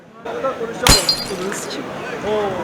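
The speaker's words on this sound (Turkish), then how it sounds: "Cam şişe attılar buraya." A glass bottle hurled at a street interview crew in Turkey bursts with a sharp, loud crash and a scatter of tinkling shards, set against crowd noise and voices talking around it.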